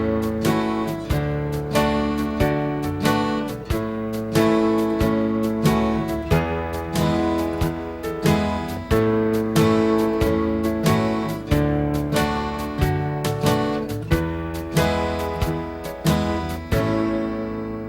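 An acoustic guitar plays a simple song in a bass-strum pattern, single bass notes alternating with strummed chords in a steady, even rhythm, close and clear with no talking.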